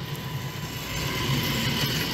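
A train arriving from the sidings in winter on a Norwegian rail line rolls in with low mechanical rumbling and faint rhythmic clanking of wheels and couplings, growing slightly louder as it approaches.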